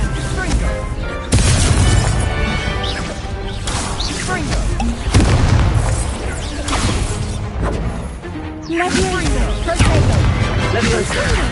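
A Confringo blast spell bursts in Hogwarts Legacy amid busy combat, with several loud, booming impacts and crashes spread through the scene over game music and effects.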